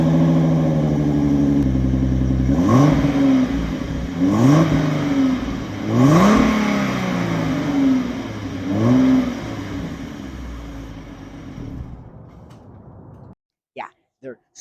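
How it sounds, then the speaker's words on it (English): A Ford Mustang with quiet stock mufflers revs up repeatedly, rising and falling engine pulls over a steady idle, close and loud, settling back to idle before cutting off near the end. "roll a clip of my car revving with mufflers"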